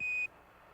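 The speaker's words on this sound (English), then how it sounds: "Roger, 1201 alarm." A single steady electronic beep tone, an Apollo 11 spacecraft computer 1201 program alarm, sounds briefly and then cuts off, leaving quiet background hiss.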